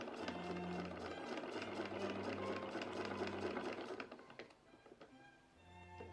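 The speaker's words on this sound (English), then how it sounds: "That's a cool sewing machine" An antique sewing machine from about 1915 whirs steadily at speed for a few seconds, then slows and stops, leaving a few mechanical clicks and taps.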